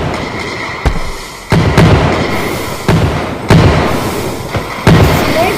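Fireworks burst in the game Fireworks Simulator 3D, a series of about six loud booms spaced irregularly, each with a crackling tail, close and dominant.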